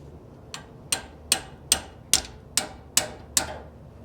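A small hammer taps on a 1956 Cadillac, eight sharp metallic strikes at a steady, even pace, close and clear with quick decays and no voices.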